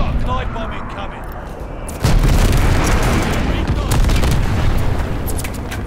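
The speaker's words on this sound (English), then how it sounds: "Enemy's got a glide bomb incoming." Glide bomb explosions in Call of Duty Vanguard multiplayer, where a sudden heavy blast hits at about two seconds and is followed by sustained rumbling booms and gunfire, loud and close.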